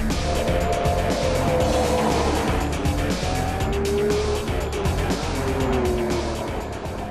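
A Maserati MC12 sports car, sharing the Enzo's engine and making 632 horsepower, drives hard on the Nordschleife. Its loud engine note rises and falls through the gears, with tire noise and a slight fade toward the end.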